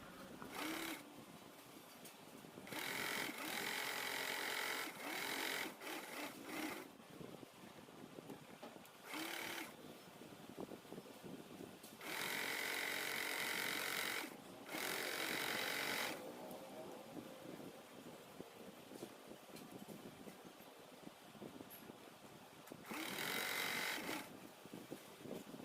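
A sewing machine stitching blouse lining cloth runs in several loud bursts of rapid mechanical whirring, separated by short pauses. The machine sounds close, and no one is talking.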